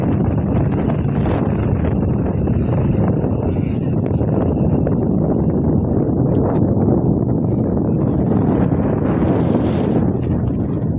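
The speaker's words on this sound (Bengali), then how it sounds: "দারুণ সুন্দর একটা হাওয়া দিচ্ছে" Steady sea breeze at Bakkhali beach on the coast, rushing and buffeting against the microphone as continuous broadband wind roar throughout, loud and close with gusty swells and no voices.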